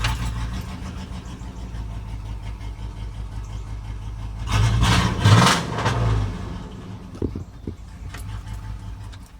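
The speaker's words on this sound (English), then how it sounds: "And the truck, I want you guys to hear it before I put the muffler on." A truck engine idles without its muffler, a steady low rumble throughout that swells into a brief louder rev in the middle before settling back to idle.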